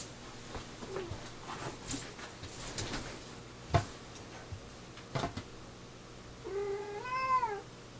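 A cat meows near the end, a single drawn-out wavering call following scattered faint ticks and knocks in a quiet room with no talking.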